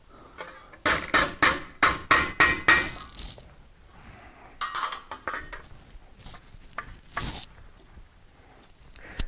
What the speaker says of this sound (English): It's just a little ball peen hammer that you can buy from any hardware store.